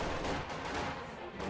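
MG42 machine gun fire in a World War II strategy video game, a dense, continuous burst of rapid gunfire heard briefly, loud and unbroken.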